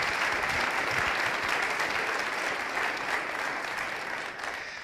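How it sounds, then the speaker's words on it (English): Concert audience at a sacred spring concert applauds the faculty, a full, steady round of many hands clapping that tapers gently near the end, with no talk over it. "One more round of applause for the faculty."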